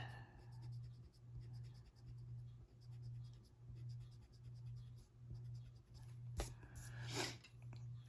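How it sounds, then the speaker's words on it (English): An eraser rubs over a colored pencil puppy drawing on paper in rhythmic back-and-forth strokes, a quiet close scratching repeated about ten times, with a couple of sharper scrapes near the end. "And then I'm going to come in and erase in between."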